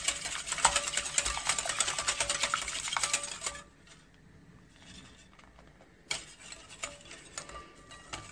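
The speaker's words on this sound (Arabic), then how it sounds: "غادي نخلط داك البيض مزيان، نزيد عليه السكر، غادي نزيد عليه النشا" A whisk or spoon stirs eggs, sugar and starch in a bowl, giving steady fast clicking and scraping against the sides, pausing briefly before the brisk rhythmic mixing resumes.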